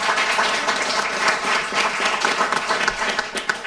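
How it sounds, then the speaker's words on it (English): A panel audience at an affordable housing press session claps together, a dense, lively patter of hands that holds steady for a few seconds and then thins toward the end. "If we could give you a round of applause."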